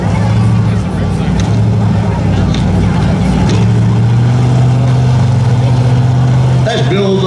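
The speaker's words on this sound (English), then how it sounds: "Silverado, he's spinning the wheels, trying to light him up a little bit" A 2006 Chevy Silverado pickup spins its wheels at a spectator drag race at Beech Ridge, a loud sustained engine roar with tire noise that surges near the end, under a crowd's murmur and an announcer's talk.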